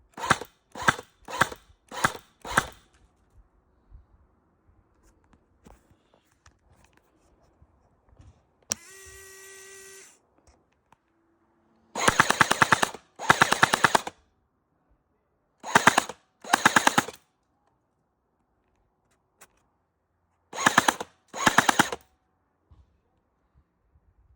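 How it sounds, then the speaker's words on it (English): An airsoft rifle converted from a Nerf blaster, Halo-inspired, driven by a linear actuator, fires in bursts: a quick run of separate semi-auto shots, then a brief electric whir, then several loud automatic strings separated by pauses. "I'll jump to the test video, the firing video, which will show me using both semi-auto and automatic"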